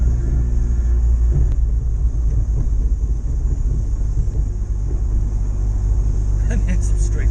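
A Ford Capri with a turbocharged Zetec engine is driven, its deep, steady engine rumble and road noise filling the cabin throughout, with some voice and chatter mixed in.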